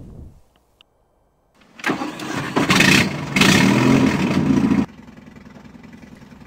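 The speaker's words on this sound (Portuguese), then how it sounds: "Sinta só o barulho do motor." A Fiat 124 engine in the Euro Truck Simulator 2 game cranks after a short quiet gap, roars loudly as it revs for a few seconds, then drops to a lower steady idle.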